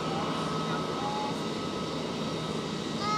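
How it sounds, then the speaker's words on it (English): A Turkish Airlines A320neo taking off from runway 16 at Zurich Airport, a constant broadband engine roar at some distance holding steady throughout. "Runway 16 departure of the show. Turkish Airlines for the 320 Neo."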